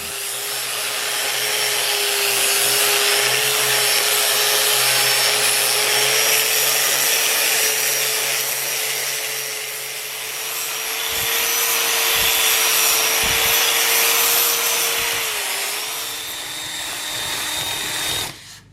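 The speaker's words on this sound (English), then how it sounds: "Now I just put some sandpaper on a disc, and this is 150 grit, and I'm just going to keep working it" A cast iron skillet is sanded with a 150 grit disc on a power tool, a loud continuous whine with a steady motor tone and a harsh abrasive hiss running unbroken to the end.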